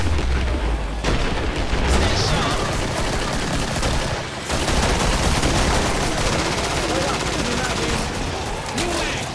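Assault rifle fire in the video game Killing Floor, loud and dense bursts of rapid shots layered with booming impacts, continuous through the clip with a brief pause partway.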